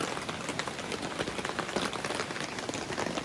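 Water dripping from trees at a rain-soaked campsite along the Trask River in Oregon, a dense, steady patter of drops close around, continuous with no talk.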